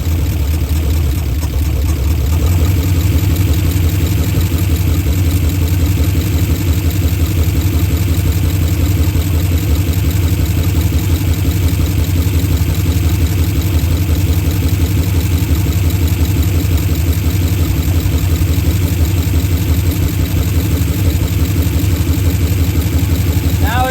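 An Oldsmobile Super 88 engine idling close by, a steady loud rumble that runs unbroken for the whole stretch.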